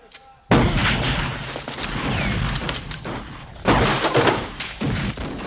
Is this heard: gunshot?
yes